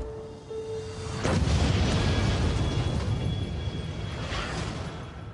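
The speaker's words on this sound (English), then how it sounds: "An explosion rocked the city today." A city bombing explosion from a film preview bursts loudly after a quiet moment and rolls on as a deep, sustained roar that slowly fades.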